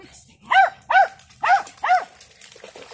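A dog barks four times in an even rhythm, close by and loud, on a canyon trail in the Snake River Canyon near Twin Falls, Idaho, with a faint voice at the end.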